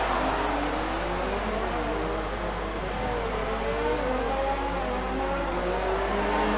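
A race car engine howls steadily through the final corner in a racing sim at a Mexico circuit, a continuous droning whine that rises and falls slightly in pitch, heard alone and fairly loud.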